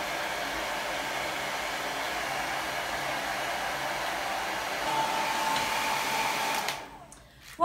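A hair dryer blows steadily and close by while drying a Havanese dog's coat as a slicker brush separates the hairs. The whir holds for several seconds, then cuts off abruptly near the end.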